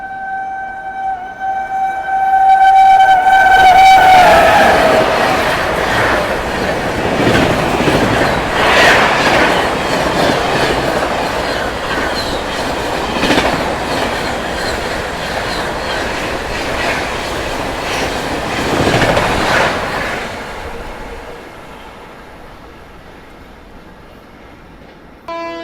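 Netaji Express train passing close by: a loud horn blares at the start, then a steady roar of rolling wagons with rhythmic clickety-clack and faint wheel squeal builds and fades away as the train moves off.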